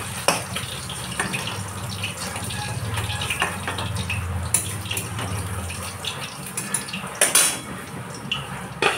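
Fried fish being lifted from a frying pan in a home kitchen, with metal utensil clinks and scrapes against the pan over a faint sizzle, plus brief splashy water-like bursts; no talking.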